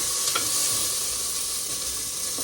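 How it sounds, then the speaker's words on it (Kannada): Ginger and tomato fry in a hot pan with a steady, close, bright sizzle and a few faint stirring taps, with no voices. "ಇವಾಗ ಶುಂಠಿ ಹಾಕಿದ್ದೀನಿ ಮತ್ತು ಟೊಮೆಟೊ ಹಾಕಿದ್ದೀನಿ"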